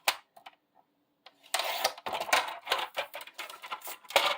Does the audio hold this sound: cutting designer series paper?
yes